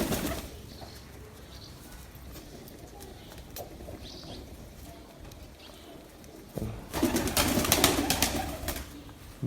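Pigeons coo softly amid outdoor ambience, then a burst of wing flapping rises loudly near the end as birds take off.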